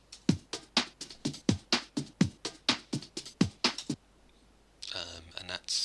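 A drum loop from a free drum pack with its EQ shaved down, playing a steady run of evenly spaced, crisp hits for about four seconds, a brief lull, then a denser burst of cymbal-like wash, moderately quiet and without speech.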